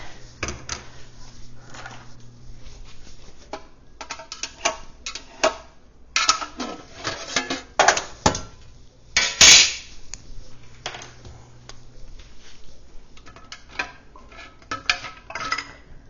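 Glass canning jars packed with home-canned ground beef clink and knock as they are lifted out one by one, with sharp glassy taps and a louder clatter near the middle, over a quiet room hum.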